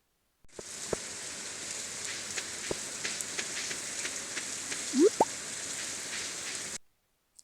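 Steady soft rain hiss with scattered drips and a couple of brief plopping sounds, continuous and even throughout, from the video game Stardew Valley.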